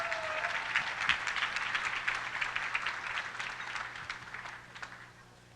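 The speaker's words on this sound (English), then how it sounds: "Let's give him a round of applause." An audience at a local celebrity dance show applauds a male dancer from a Joliet dance studio. Many sharp claps sound moderately distant and fade out near the end.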